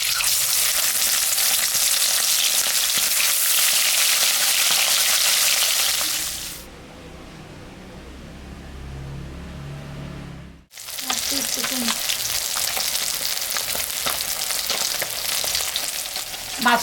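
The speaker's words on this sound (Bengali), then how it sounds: "মাছটা এখন আমি ভাজবো।" Fish, salted and turmeric-coated, frying in hot mustard oil, a loud steady sizzle close by that drops away for a few seconds mid-way, then returns strongly, with no voices.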